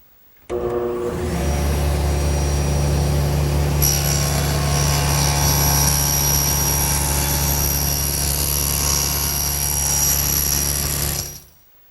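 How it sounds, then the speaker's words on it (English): A table saw cuts through a wooden mirror-stand leg, a loud, steady machine whine that starts abruptly, holds for about eleven seconds with a brightening pitch as the blade bites, then stops. "Now, the first step is to just cut through this leg."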